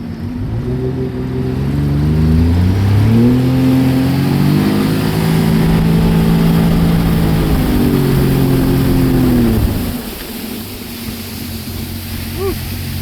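A Sea-Doo RXT jet ski engine roars loud and close on the water, its pitch climbing and holding as it accelerates, then dropping off sharply near the end, leaving a steady background wash.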